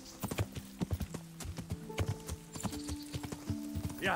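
Rhythmic clip-clop of horse hooves while riding through a forest in Kingdom Come: Deliverance, steady and fairly close, with a brief horse whinny near the end and no talk.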